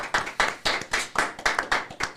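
A small group claps in a steady rhythmic beat, about four claps a second, close and moderately loud with no voices.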